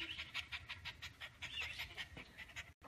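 A happy dog pants in quick, steady rhythmic breaths after a walk, close and fairly loud, with a brief gap near the end.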